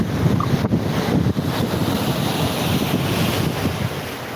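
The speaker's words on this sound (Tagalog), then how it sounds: "Dagat po yan." Sea waves rolling at a beach resort in Real, Quezon, a loud continuous surf roar mixed with buffeting wind noise on the microphone.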